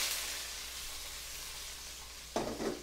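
Ginger, onion, tomato and green onion sautéing in a pan for miso sinigang, a steady broad sizzle throughout that flares louder near the end as the ingredients are stirred, no talking.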